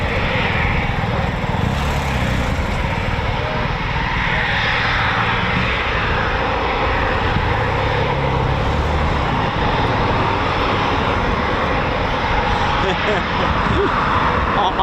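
A Eurofighter Typhoon FGR4 jet on the move at RAF Coningsby gives a loud, steady engine roar that holds level throughout, with no pauses.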